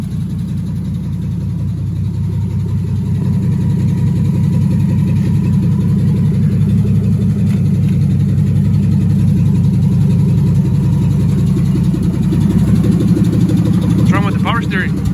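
A Chevrolet C1500 pickup truck engine runs steadily at idle throughout, a continuous low rumble close by, with people talking over it.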